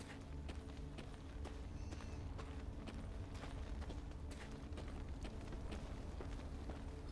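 Horse hooves clip-clop steadily in Thronebreaker: The Witcher Tales, an even, continuous trotting rhythm of sharp hoof strikes over a dense low rumble, with no talk.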